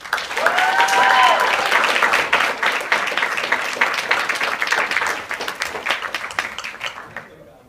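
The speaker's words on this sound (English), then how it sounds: "So would y'all please join me in giving a very warm round of applause to our panelists." Audience at a Georgia Tech panel event claps loudly and warmly for the panelists, with a whoop or two early on, then the applause gradually fades out over several seconds.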